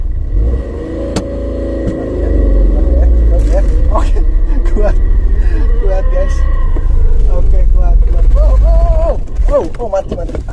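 A car reversing uphill in reverse gear on a steep incline, its engine droning and straining steadily at close range for most of the clip, with people talking over it throughout.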